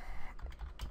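Fast, irregular keystrokes on a computer keyboard while a password is typed in during a Linux setup, close and clear with no voices.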